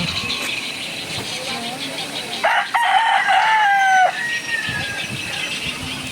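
Chickens and a rooster on a Philippine poultry farm, with a loud, near rooster crow rising in the middle over scattered clucking and other crowing further off.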